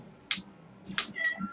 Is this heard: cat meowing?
yes